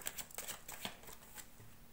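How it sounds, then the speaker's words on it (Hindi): Tarot cards being shuffled during a reading to draw another card, a soft, papery riffling rustle with a few quick flicks, close and fairly quiet with no voices. "चलो और एक कार्ड निकाल लेते हैं"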